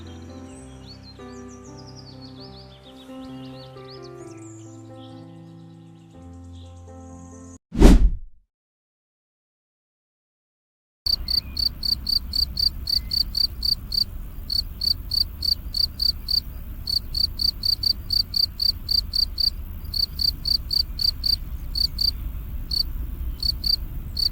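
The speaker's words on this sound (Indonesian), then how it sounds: "Jangkrik adalah salah satu serangga yang sering kita temui" Crickets chirping in a tropical setting in Indonesia, a loud, rapid, regular pulsing trill that runs continuously after a brief musical intro and a sharp whoosh.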